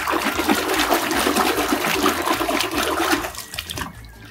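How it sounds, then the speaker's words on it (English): Water splashing and running over a very muddy toy rhinoceros as it is washed, a steady close rush of flow that stops near the end. "Let's wash him, he is very,"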